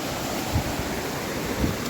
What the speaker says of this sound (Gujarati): તમે જોઈ શકો છો પાનેલીની ડેમની નદી કેવી જાય છે.